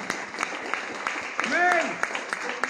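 Church congregation clapping in praise during a worship service, rhythmic steady claps throughout with a voice rising over them partway.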